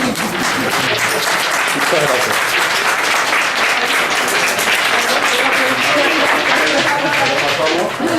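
Audience applause after a lecture, a continuous, dense clapping from a packed room that stays loud and even for several seconds, with a speaker's voice faintly talking over it.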